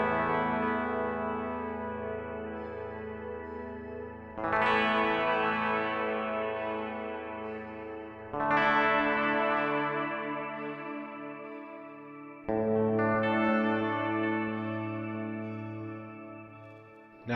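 Four strummed guitar chords, about four seconds apart, each ringing out through a Nux Duotime delay pedal with built-in shimmer reverb, a bright shimmering wash and echoes sustaining between strums; loud and close with no talking.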